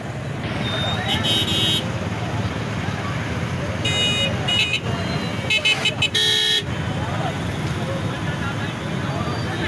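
Congested, blocked traffic on the Lansdowne Bridge linking Rohri and Sukkur: a steady roadway rumble of idling and creeping cars with several short horn toots and honks breaking through, all under continuous talk.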